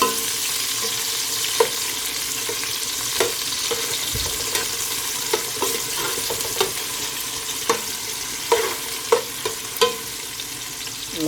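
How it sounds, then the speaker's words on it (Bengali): Onions fry in a pan for meat pulao with a continuous sizzle, broken by intermittent scrapes and clicks of stirring, steady and close with no talking. "পেঁয়াজগুলোও আমি বাজিয়ে লাল করব"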